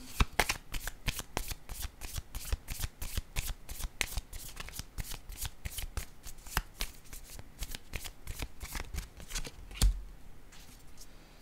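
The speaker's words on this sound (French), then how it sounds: "Je vais déposer une carte ici." Tarot cards are shuffled in a rapid run of crisp, papery riffles and snaps, close and steady, with a louder final snap near the end and no talking.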